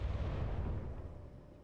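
Weapon fire in the space game Space Engineers, a dense low rumbling barrage of booming shots that stays loud and continuous throughout, then tails off slightly toward the end.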